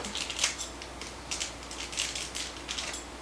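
Scissors snip through the tip of a filled piping bag of key lime cheesecake filling, a few quick close clicks and crisp cuts in a quiet kitchen.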